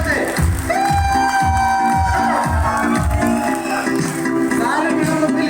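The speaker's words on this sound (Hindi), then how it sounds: "चिल्लाइए जोर से।" A loud crowd cheers and shouts at a felicitation event for a Modicare Crown Diamond Director, with heavy rhythmic music thumping underneath and a sustained tonal voice or horn line over the noise throughout.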